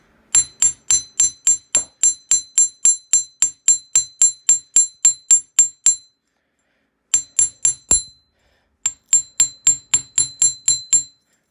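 Metal wire struck flat with a hammer to shape a paddle earring: crisp, ringing blows in a fast, even rhythm, a pause, one heavier strike, then further quick runs of taps, close and alone.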